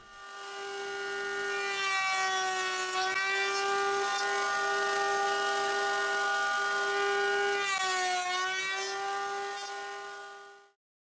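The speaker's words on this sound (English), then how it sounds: "Now I have a stop block that will help to route the corners of the wood." A router cutting the corners of a wood workpiece against a stop block for a dovetail joint, giving a loud, steady high-pitched whine that dips slightly under load a few times and then stops abruptly.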